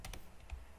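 Several quick, soft clicks of keys being pressed on a computer keyboard, a short irregular burst of typing heard close and quiet with no voices.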